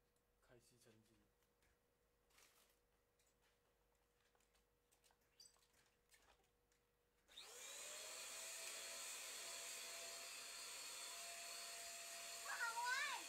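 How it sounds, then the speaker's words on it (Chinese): A household vacuum cleaner starts up mid-clip during pre–New Year house cleaning, giving a steady loud whine after several seconds of faint rustles and quiet background sounds. "开吸尘机。"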